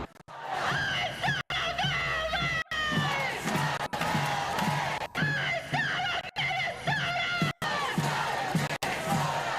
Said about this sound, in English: Tonight, protesters gathered outside the Federal Building in downtown LA.